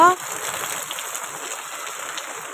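Heavy rain with water gushing down from above, a steady, broad wash of falling water throughout, close and fairly loud, with a faint bird call at the very start.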